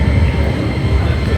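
A train pulls into a station in Tokyo, a loud, close, low rumble that holds steady through a very brief moment.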